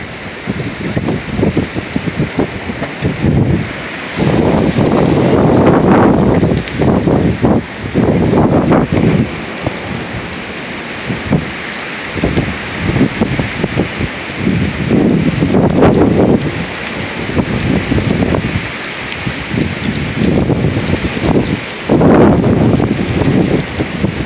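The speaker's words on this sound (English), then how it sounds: "Probably 65 mile an hour gusts here." Strong gusts of around 65 mph in a northern Oklahoma windstorm roar and buffet the microphone in surging waves, loud and continuous for over twenty seconds, with no voices.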